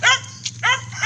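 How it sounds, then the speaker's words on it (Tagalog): A dog in a backyard barks twice in quick succession, sharp close yips with a brief pause between them. "Ayan ang aso ko tumatahol."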